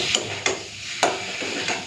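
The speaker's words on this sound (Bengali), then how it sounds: "এখন হাতে সময় নিয়ে মশলাটাকে ভালো করে কষে নেব" Masala spices sautéing in a pan for a rohu (katla) fish curry, a soft steady sizzle broken by four evenly spaced scraping stir strokes, close with no voices.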